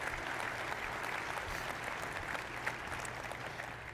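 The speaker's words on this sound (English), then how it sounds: "Let's give Mike a round of applause for all that great knowledge." Conference audience at an additive manufacturing trade-show keynote gives a sustained round of applause, a steady even wash of clapping from a large hall with no voices heard.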